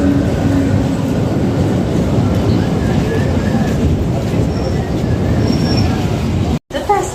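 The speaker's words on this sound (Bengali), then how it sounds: "এই হচ্ছে আজকে আমাদের ট্রেন মেমু রামপুরহাট প্যাসেঞ্জার" A 12-coach MEMU Rampurhat passenger train from the Ranaghat car shed at a station, its loud continuous rumble and rolling noise filling the scene close by, with faint squeals above, cut by a brief dropout near the end.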